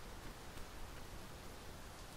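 Rain falling in the Dragon's Dogma 2 video game, a dense, even hiss of steady rainfall with no distinct drops standing out, filling the scene without any talk.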